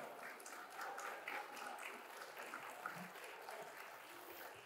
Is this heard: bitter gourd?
no